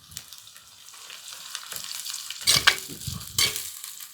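Curry leaves crackling and spitting in hot oil in a pan for village-style fish curry, starting with a soft hiss and then sharp loud bursts of sizzling.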